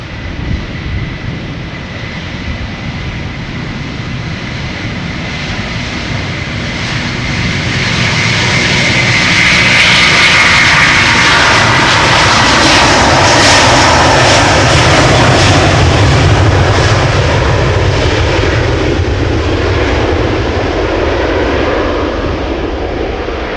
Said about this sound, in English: Delta Airlines Flight 137 going to Detroit, Michigan, 17 years old, first flight December